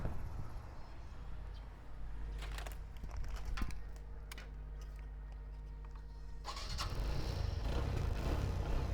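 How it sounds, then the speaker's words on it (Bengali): A motorcycle engine idles with a steady low throb, then revs up louder and rougher toward the end. "আমরা গাড়িটা স্টার্ট দিয়ে যদি আপনাদেরকে সাউন্ড একটু শোনাই"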